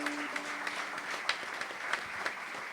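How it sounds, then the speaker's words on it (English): Festival concert audience applauding the sound crew, with steady clapping from a crowd heard at a moderate distance and a few sharper individual claps standing out. "So I think they definitely deserve a big round of applause."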